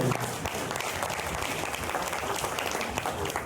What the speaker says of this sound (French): Merci Alain. On peut l'applaudir.